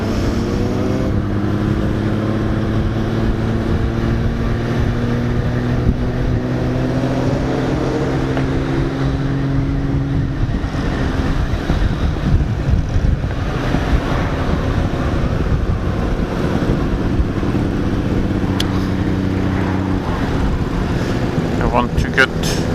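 Motorcycles ride in a parade, their engines droning and rising and falling in pitch as bikes roll past, heard under heavy wind buffeting on the microphone, with a voice talking partway through.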